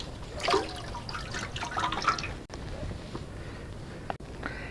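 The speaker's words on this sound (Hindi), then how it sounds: "इस पानी में ही हम लोग सारे पीसेस डाल के अच्छी तरह वॉश करेंगे।" Water sloshes and splashes in a bowl as bitter gourd pieces are washed in salted turmeric water, a soft, uneven stream of liquid sounds with a couple of brief sharp clicks.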